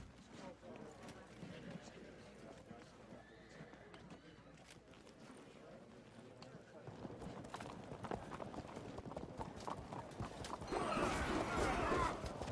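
Light horse cavalry hooves from the Field of Glory 2 strategy game, a soft, steady patter of galloping clip-clop running faintly underneath ongoing talk, with a brief louder burst near the end.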